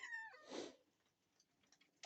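A house cat named Tiger lets out one short, faint meow at the start, followed by quiet room noise and a few soft clicks.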